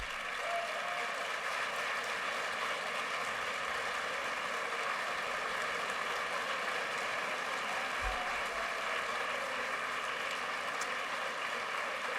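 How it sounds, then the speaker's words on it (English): A large audience at a 2023 State of the City address stands and applauds the city council, a steady, even wash of clapping that runs throughout at moderate distance. "Let's stand and give them a round of applause if we can"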